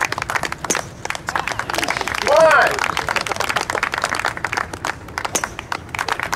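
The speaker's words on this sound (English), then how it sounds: "You can clap, it won't bother." Audience applause at a golf exhibition by a World Golf Hall of Famer at Washtenaw Golf Club: scattered clapping and a crowd murmur run throughout, with a voice calling out briefly over it.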